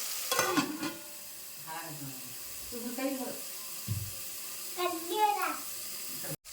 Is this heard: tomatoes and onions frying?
yes